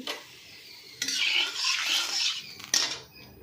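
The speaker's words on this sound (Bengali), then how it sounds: "এবার তেলটা গরমও হয়ে গেছে, তার উপরে তেজপাতাটা দিয়ে দিলাম।" A bay leaf goes into hot oil in a kadai, oil already used for frying potatoes, while ghugni is being cooked. A sharp metal clink is followed by a close sizzle that swells for a moment, then another clink.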